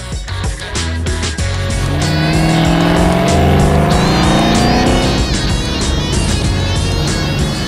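A Dodge Challenger with vanishing paint cruises on the open road, its engine droning loud and close. Rising revs sweep upward and broad road and wind noise fill the background throughout.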